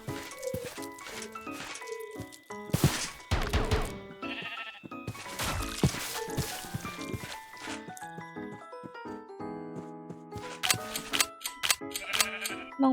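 Goats bleat in a Minecraft parasite-mod gun battle, with repeated nasal cries over dense game noise of gunfire, clicks and music throughout.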